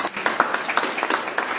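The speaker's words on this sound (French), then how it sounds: "Merci beaucoup, on peut applaudir." Conference audience applause, a brief spell of scattered hand clapping from a modest crowd, fairly close and steady.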